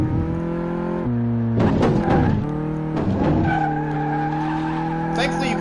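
A car driven hard around a race track in Car Mechanic Simulator, its engine droning steadily with pitch shifts as it revs, broken by bursts of tire skidding and squeal, loud and close.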